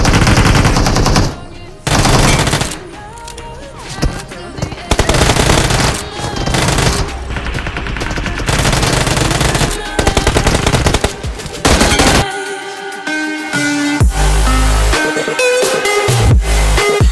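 Loud, continuous automatic gunfire from the BGMI (PUBG Mobile) battle royale game, sustained bursts with brief gaps over roughly seventeen seconds, with a faint voice in places.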